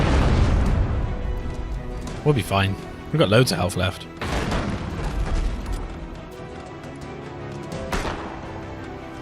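Ship cannons firing in the naval combat game Abandon Ship, a burst of heavy booms and explosions clustered in the middle, loud and close, with people talking over the game sounds.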